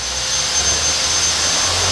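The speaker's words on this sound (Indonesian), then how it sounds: "Untuk yang mesin ovennya nanti kalau on tinggal di onin gini, nanti dicolokin sama gas" A gas-fired powder coating oven running with a steady, loud roaring hiss like a burner or blower, constant and close throughout with no speech.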